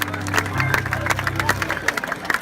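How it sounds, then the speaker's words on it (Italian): Audience applause at a live cabaret show in Cinisi, scattered clapping and some crowd noise coming through under and alongside a voice, moderately loud and close. "poi fate l'applauso, dai."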